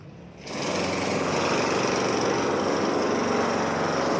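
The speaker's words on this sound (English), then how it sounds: "There's someone doing some drilling work" Drilling work at a construction site for a football turf project, a loud continuous machine drone that starts abruptly and keeps going without break, close to the microphone.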